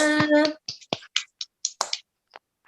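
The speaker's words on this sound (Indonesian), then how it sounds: "tepuk tangan untuk kita semua" Classroom clapping led by a teacher, a short voiced sound followed by a series of sharp, separate claps in an uneven rhythm, close and fairly quiet, with pauses between them.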